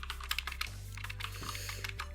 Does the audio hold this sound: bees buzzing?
no